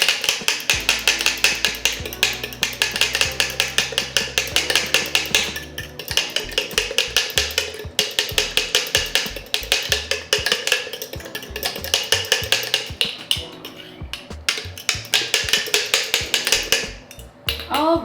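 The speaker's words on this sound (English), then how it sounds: "And then we're gonna whisk. We wanna make sure we're" Eggs are whisked in a bowl for baked macaroni and cheese, with a fast, steady, loud clatter of a whisk against the bowl close up throughout, over faint background music.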